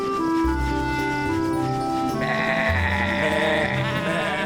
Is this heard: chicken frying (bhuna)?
no